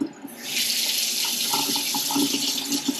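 Hot water runs from a faucet in a newly remodeled bathroom, a steady close hiss of flow that starts after a brief pause and continues without speech.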